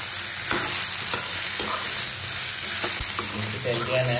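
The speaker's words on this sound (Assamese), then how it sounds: "বেছি তেল দিয়া নাই, মাছৰ তেলতে ভাজিছোঁ" Fish frying in its own fat in a pan, a steady loud sizzle running throughout with occasional scrapes and clinks of a spoon stirring, no voices.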